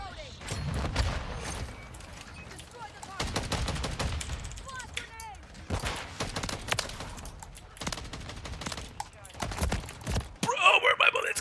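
Rapid gunfire bursts in Call of Duty Modern Warfare 3, repeated sharp volleys through the clip with game sound effects, partly under a player's voice and background chatter.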